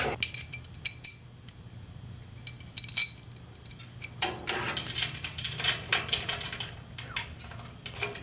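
Sporadic metallic clinks and light ticks ring out up close as a tire carrier is bolted onto a 1966 Ford Bronco, with short bursts of rattling between quieter pauses and no talking.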